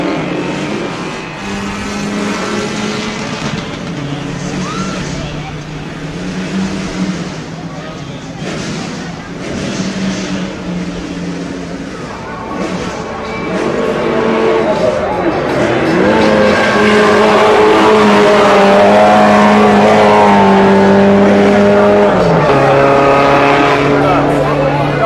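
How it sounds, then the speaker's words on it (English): A GT2 class race car, number 156, climbs the Giants' Despair hillclimb with a loud engine rising and shifting through gears, swelling as it nears, while a commentator talks over it throughout. "GT2 class has the 156 of Mike Ankus."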